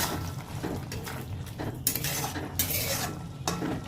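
A spoon stirs futi curry with prawns in a metal pan, giving repeated scraping strokes and sharp clinks against the pan with a faint sizzle underneath. Nobody speaks.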